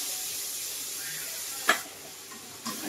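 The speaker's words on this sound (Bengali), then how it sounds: "ভালো করে নেড়ে চেড়ে কষিয়ে নেব।" Spice paste of chili powder with a splash of water sizzles steadily in a pan, with a couple of sharp scraping stirs cutting through the hiss near the end.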